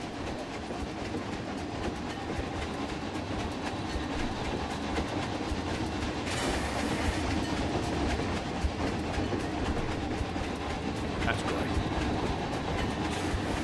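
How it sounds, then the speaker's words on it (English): Steam train rolling through a Planet Coaster theme park, a steady rumble with soft rhythmic clatter running throughout, with a brief hiss partway, while someone talks over it. "I do enjoy a good steam train."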